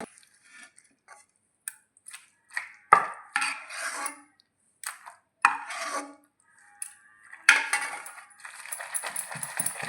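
Onions and tomatoes are pounded in a stone mortar for peanut chutney, making irregular, close knocks and short grinding scrapes between brief silences.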